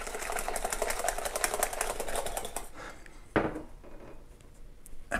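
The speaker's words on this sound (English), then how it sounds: "Scrape all that goodness off and whisk it in." A whisk beating carrot pie filling in a bowl: rapid, rhythmic metallic scraping and clatter for about three seconds, close and moderately loud, then quieter bowl noises and a single knock.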